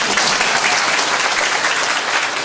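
Loud, dense applause fills a Taiwanese political assembly hall, a thick unbroken roar of clapping from a large crowd, close and steady for the whole moment.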